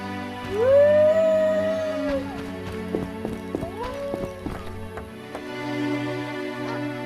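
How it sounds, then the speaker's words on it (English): A dog howling in The Witcher Enhanced Edition, one long rising howl near the start and then shorter wavering cries, with hoof clops and the game's ambient backdrop underneath. "That dog seems to be looking for something."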